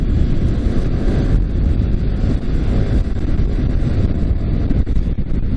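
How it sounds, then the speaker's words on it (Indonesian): Wind roars into an NHK Mark 1 motorcycle helmet at high speed on the road, a loud, constant broadband buffeting that fills the whole stretch with no voices. "ini di kecepatan tinggi memang mulai ada suara-suara angin yang masuk"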